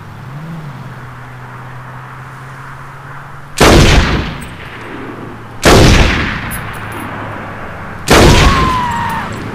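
Three heavy gunshots ring out in the video game Saints Row 2, spaced about two seconds apart, each a loud booming crack with a decaying tail over a low engine-like hum.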